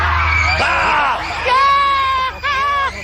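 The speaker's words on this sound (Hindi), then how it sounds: "बाप रे क्या हाई पिच की चीख है, चिमगादड़ में भाग जाएंगे चीख सुन के।" A contestant on the Japanese game show Takeshi's Castle lets out a long, loud, piercing high-pitched scream in several drawn-out bursts, with crowd noise underneath.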